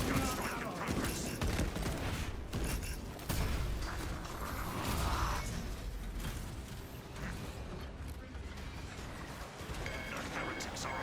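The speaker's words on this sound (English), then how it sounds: "Servo gun strike in progress" Heavy weapon fire from a Techmarine's servo harness gun in Space Marine 2, a dense rattling barrage with mechanical clanks and creaks, a voice talking over the sustained combat noise.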